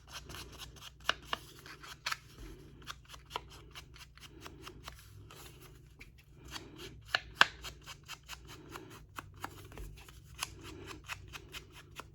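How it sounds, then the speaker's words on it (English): Scissors snip through a junk mail envelope for crafting, a string of crisp close cuts in an uneven rhythm with faint paper rustling between them. "Let me cut this real quick so I can ink it up."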